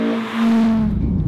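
Honda Civic FN2 Type R fitted with a 3-inch exhaust, revving loudly up close in a brief burst: a steady, droning engine note that swells and turns rougher toward the end.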